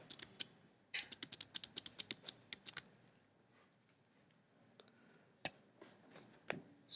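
Fingers tap out a SQL query on a computer keyboard, with a quick burst of close, crisp key clicks at the start, a brief pause, then sparser scattered keystrokes.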